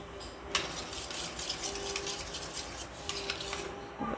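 Milk powder being stirred into a small amount of milk for rice kheer, a spoon scraping and rubbing steadily against the bowl in repeated strokes, close and moderately quiet, with no voices.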